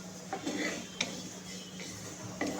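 Sesame seeds stir and rattle in a pan roasting over medium flame, with a few light metallic clinks and scrapes of the spoon at irregular intervals, quiet and close.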